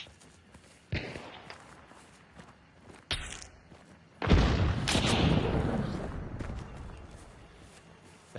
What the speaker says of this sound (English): That's him shooting. That was from behind the bush.